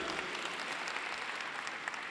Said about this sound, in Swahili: Makofi yake mazuri tafadhali.